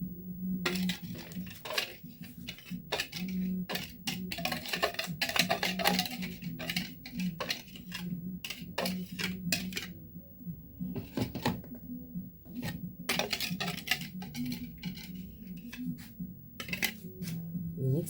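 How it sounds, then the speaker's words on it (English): Scone batter is mixed with flour in a bowl, a close run of irregular scraping, clinking and tapping strokes that keeps on for about eighteen seconds. "we mix it with flour"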